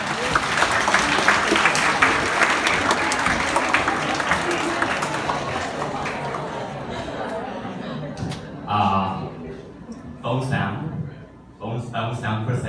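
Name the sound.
audience applause for a teacher at a comedy show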